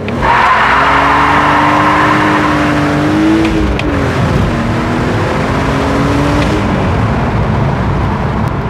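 A BMW E46 with traction control switched off accelerates hard. The loud engine drone rises and wavers in pitch while tires skid and squeal continuously, close by, with no voices.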